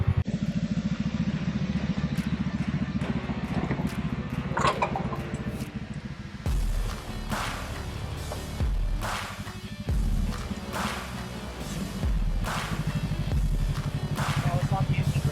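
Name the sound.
Kawasaki Teryx KRX 1000 engine racing off-road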